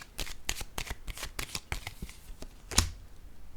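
Oracle cards being handled and laid down on a surface, a rapid series of crisp papery flicks and taps with one louder snap near the end, close and without talk.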